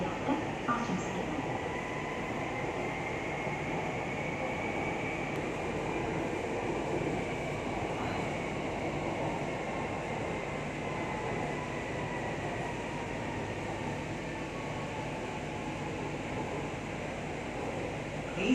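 A Kochi Metro train runs along the line between Vyttila and Aluva, a steady low rumble and rolling rail hum heard from inside the car, with faint higher whines drifting over it.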